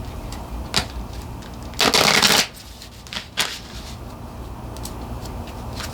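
Tarot cards shuffled up close: a dense, brisk riffle burst of about half a second, with a few scattered card taps and flicks before and after against quiet room tone.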